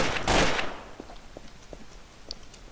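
Gunshots in Trouble in Terrorist Town: a loud burst opens, then a string of sharper, fainter shots follows at irregular intervals.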